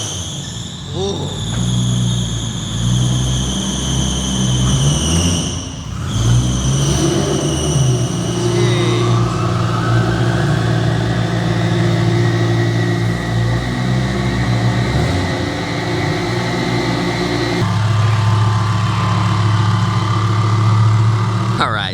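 A turbocharged Toyota GR86 / Subaru BRZ engine cranks, fires up and revs, its steady loud drone rising and falling in pitch over about twenty seconds, with a few people talking nearby.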